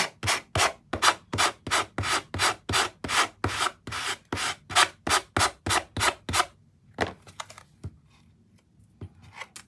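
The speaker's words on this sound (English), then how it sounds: "So I'm not using a lot of pressure when I go around and sand this" A sanding block scrubs back and forth with light pressure along the corner of a paper-covered card box in quick, even strokes, about twenty rasping passes, then stops, leaving a few faint taps and rustles.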